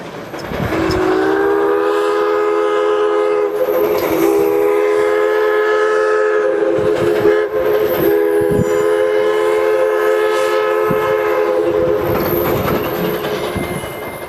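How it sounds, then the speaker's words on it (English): Climax geared steam logging locomotive, one of three still operating, sounds a loud, sustained multi-tone whistle that holds steadily for most of the stretch, with faint mechanical clanks beneath and no talking. "One of 3 operating climax geared logging locomotives on Earth."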